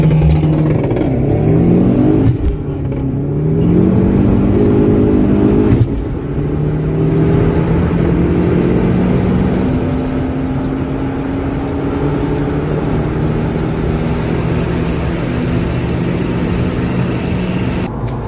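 A car engine races on a track, sounding close from inside the cabin as it revs up and down steadily through gear changes, with no talk over the drone. The 2008 Seat Ibiza 1.9 PD130 is being driven against a Saab.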